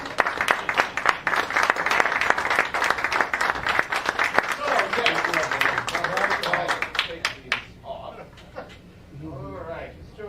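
Audience applause at a stage follies show, a loud burst of clapping that thins out and fades, with talking and a chuckle over the tail end.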